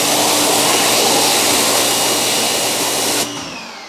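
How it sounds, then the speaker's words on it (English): A pressurized water spray hisses steadily at close range while rinsing a dirty, neglected car wheel, then drops in level abruptly near the end. "All right, let's rinse this out."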